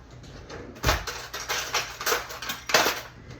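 Spoon scraping and clinking against a bowl while brown sugar is stirred into a wet mixture for a pork tenderloin dish, a run of close, irregular taps and scrapes with no talk.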